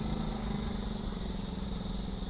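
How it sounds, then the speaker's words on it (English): A moped riding along a residential street, its small engine giving a steady, close droning hum with no voices over it. "Somebody on a moped."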